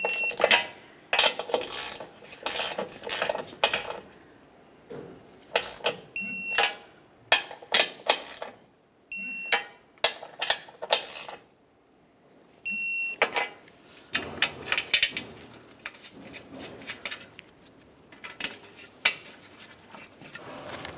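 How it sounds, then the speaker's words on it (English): Metallic ratcheting clicks and clinks in bursts from a wrench tightening bumper bracket bolts on a 2012-2018 Nissan Altima, close by and fairly loud, with brief pauses between runs and no talking. "let's torque these to 20 foot-pounds."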